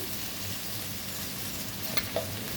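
Brinjal curry fries in a pan with a soft, continuous sizzle, then two brief scrapes as it is stirred just before masala paste goes in.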